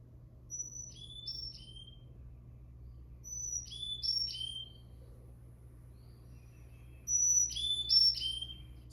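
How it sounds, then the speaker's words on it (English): Carolina chickadee singing its four-note song outdoors, three separate high, clear whistled phrases spaced a few seconds apart over a low, quiet background hum. "And here's the Carolina chickadee. See, it has a 4-note song."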